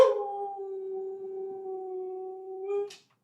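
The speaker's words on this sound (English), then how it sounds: "My dog is howling for us this morning." A husky dog gives one long, sustained howl close by in a quiet room. The tone holds steady, then lifts slightly before it breaks off.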